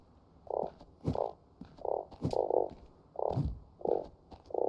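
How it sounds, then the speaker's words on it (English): Frogs in the Starsand video game, a run of about eight short, low, rounded croaks at a loose uneven pace, with soft thumps between them in otherwise quiet surroundings. "Now, there should be frogs."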